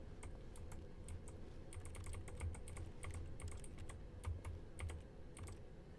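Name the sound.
keyboard typing sound of interacting in The Stanley Parable video game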